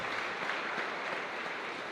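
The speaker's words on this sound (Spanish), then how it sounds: "Fuerte aplauso para todos ustedes" Broad, steady applause fills a church congregation at a Sunday Mass in the Caacupemí chapel in Luque, a dense wash of clapping that holds at an even level throughout with no voices on top.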